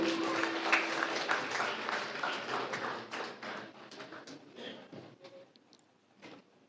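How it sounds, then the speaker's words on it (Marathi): An audience at a Marathi public service award and felicitation ceremony claps, a dense, moderately distant patter of many hands that gradually thins and fades toward the end, with faint murmuring underneath. "जोरदार टाळ्या वाजवायच्या आहेत"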